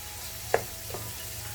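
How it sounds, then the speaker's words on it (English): Pork sisig simmers faintly in a pan while being stirred, with a soft, steady sizzle and one sharp clink of a utensil against the pan. "remember to keep on stirring it up because we don't want it to burn on the bottom"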